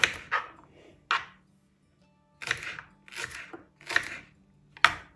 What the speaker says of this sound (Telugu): ఇప్పుడు ఈ అంచులు తీసేసి వీటిని సన్న ముక్కలుగా కోసుకుందాం.